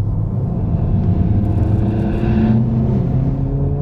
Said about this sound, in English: You get an auto blip on the downshifts as well.